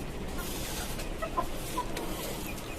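A restless caged native chicken gives a few soft clucks amid steady background noise, faint and somewhat distant.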